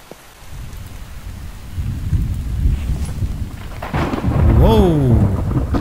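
Steady rain pours in the survival video game The Infected, and deep thunder rolls and grows louder toward the end, loud and close with no talking.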